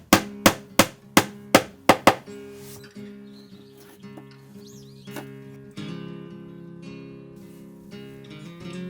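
Screw nails are hammered into cedar siding by hand: about eight sharp, close hammer blows in quick succession, then quieter knocks and some tonal ringing over the rest of the clip.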